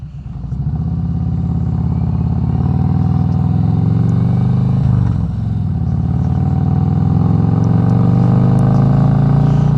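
A 2018 Harley-Davidson Road Glide Special fitted with Tab Performance mufflers rides along, its deep, loud exhaust rumble steady and close throughout, dipping briefly midway before pulling strongly again.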